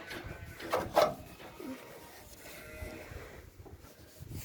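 Cattle, bullocks and cows, low and moo on a farm among sheep and lambs, giving a couple of fairly faint calls early on against quiet outdoor background noise.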